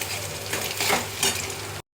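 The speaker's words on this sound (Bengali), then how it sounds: "এবার আমি ডিমটাকে একটু ভুজি ভুজি করে দিচ্ছি।" Egg being scrambled and broken up in a hot pan for egg chowmein, a close, steady sizzle with scraping stirring strokes of a spatula, continuous for about two seconds before cutting off abruptly.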